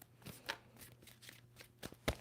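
Tarot cards being shuffled by hand, soft quiet riffles and taps coming in irregular bursts close up, with no talking.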